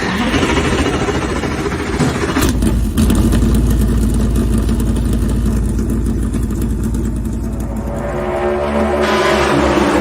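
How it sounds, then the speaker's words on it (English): Race car engines start and run at Pocono, making a loud, dense, continuous roar of several motors together, steady throughout with slight surges. "gentlemen, start your engine!"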